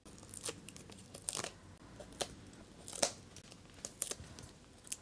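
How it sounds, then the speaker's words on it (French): Stickers being peeled off their backing for a paper collage page, with soft tearing and crinkling sounds in short scattered bursts, close and quiet with no talking. "Et je vais décoller ça et je vais coller mes petites poupettes."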